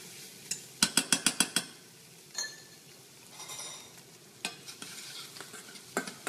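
Tomato paste and garlic roast lightly in a pan with a soft sizzle, broken by a quick series of sharp spoon-on-pan clinks and scraping stirs close up, with no talking.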